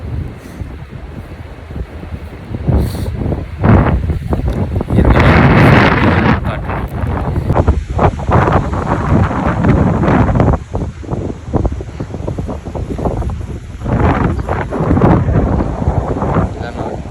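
Strong wind on a London street buffets the microphone in heavy gusts, with a voice talking now and then beneath the roar.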